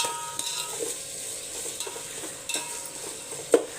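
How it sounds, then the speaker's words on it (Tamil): Sliced onions fry in a pan with a soft, steady sizzle, punctuated by light scraping stirs and one sharper clink of the spatula near the end, with no talking. "வெங்காயம் வதங்கட்டும்"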